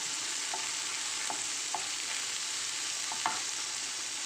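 Meatballs, tofu and mixed vegetables stir-fried in a pan, a steady close sizzle with a few soft scrapes of a spatula tapping through it.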